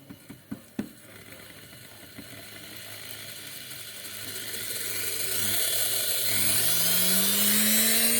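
Electric motor of a log splitter starting after a few mechanical clicks, then a steady hum whose pitch rises as the motor speeds up, growing louder toward the end.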